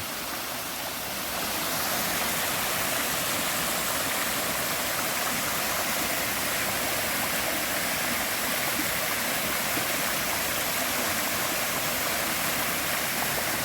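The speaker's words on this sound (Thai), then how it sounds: "น้ำตก ขุนห้วยเทิน" The Khun Huai Thoen waterfall in Thailand roars steadily and evenly from start to finish, a dense unbroken rush of water with no voices.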